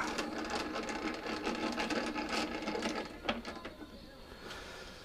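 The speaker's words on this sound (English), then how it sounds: "So we'll chuck this up in the lathe." A lathe runs with a Tikka T3 tactical rifle bolt knob chucked in it, giving a steady mechanical whir and clatter close by, with a sharp knock partway through and a quieter hum afterward.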